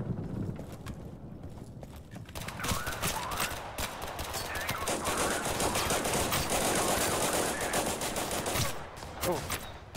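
Pistols and other guns firing in a Total Conflict Resistance battle, a steady stream of sharp shots and rattling bursts at mid distance over a constant background, with a player's voice heard in the mix.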